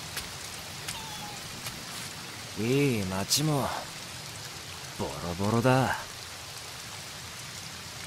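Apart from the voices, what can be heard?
rain falling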